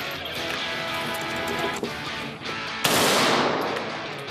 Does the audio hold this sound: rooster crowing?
no